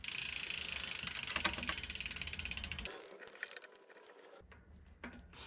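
A BMX pedal being threaded by hand into a three-piece crank arm, giving close, faint ratcheting clicks and metallic grinding that stop abruptly partway, then briefly resume.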